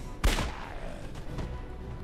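A single sharp ranged-attack shot fires in the fantasy strategy game Age of Wonders 3, a sudden loud crack with a trailing rumble that fades over the next two seconds, alone without talk.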